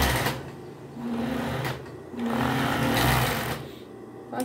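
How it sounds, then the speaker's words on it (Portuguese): A sewing machine stitches a piece of children's clothing in two steady bursts with short pauses between them, a close and fairly quiet mechanical whir with no talk. "Eu vou vir aqui, vou centralizar aqui e vou passar a costura."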